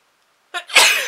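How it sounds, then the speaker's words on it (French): After a moment of silence, one sharp, explosive sneeze bursts out close by, a quick intake followed by a loud blast. "Et je vais éternuer."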